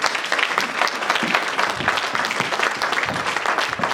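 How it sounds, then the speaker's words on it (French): A church congregation applauding in praise during a service, dense sustained clapping from many hands filling the room at an even loud level. "On acclame pour notre Dieu."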